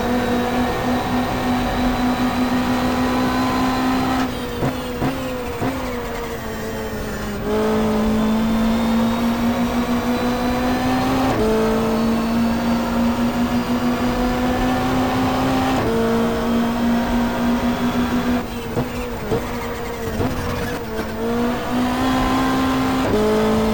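Race car engine in the GTR2 racing game, recreating the 1995 Australian Super Touring Championship at Symmons Plains: a loud, steady engine drone with repeated gear shifts and rev changes, brief lifts off the throttle, then acceleration again, with no talk.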